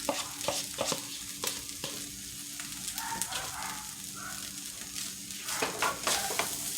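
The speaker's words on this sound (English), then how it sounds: "So now I'm going to add in my carrots and my garlic" Chopped carrots and garlic hiss in a greased pan for an egg roll filling, a soft steady sizzle marked by irregular clinks and scrapes of stirring, close but fairly quiet, with no talking.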